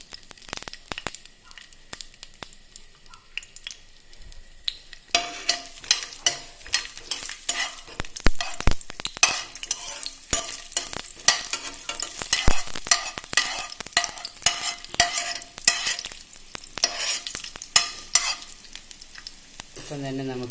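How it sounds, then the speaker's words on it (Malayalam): Garlic and cinnamon dropped into hot oil for bitter gourd masala curry, a quiet start giving way to a sharp, busy crackling sizzle with spoon clatters, loud and close. "അതൊന്ന് ചൂടായി വരുമ്പോൾ നമുക്കതിലേക്ക് ഈ വെളുത്തുള്ളി ഒന്ന് ചേർത്ത് കൊടുക്കാം."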